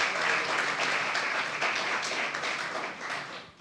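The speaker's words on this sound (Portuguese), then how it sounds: "Pode aplaudir a Deus, pode aplaudir" A church congregation claps during a sermon, a fairly quiet, diffuse wash of applause heard from a distance that fades out over a few seconds.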